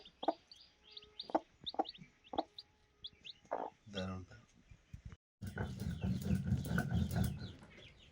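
Hens cluck in short, scattered bursts close by, then a voice starts talking over a louder, busier background.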